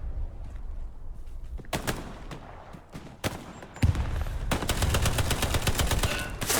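Loud bursts of gunfire in a video game: a few separate shots, then rapid sustained automatic fire, with no voices.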